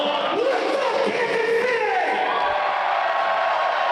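A wrestling crowd at a live NWL show gives a loud cheap pop, a sustained roar of cheers and yells filling the arena, with whoops rising above it.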